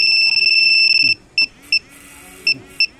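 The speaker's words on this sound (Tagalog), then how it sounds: "Nagbabibrate siya kasi naka-alarm." A motorcycle alarm beeps with a high electronic tone, first held steadily for about a second, then repeating as four short, evenly spaced beeps over a faint low rumble.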